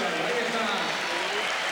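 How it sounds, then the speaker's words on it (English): A stadium crowd at an indoor trial bike event gives sustained, sympathetic applause after a rider's fall, a dense, even wash of clapping with voices mixed in throughout. "sympathetic applause rolls around the stadium"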